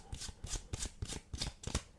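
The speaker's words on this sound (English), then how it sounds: "you're just going to peel off cards one by one, making it look like you're doing an overhand shuffle" Playing cards are peeled off one at a time in a fake overhand shuffle, making about six crisp, evenly spaced slaps and flicks, close and quiet, with no talk.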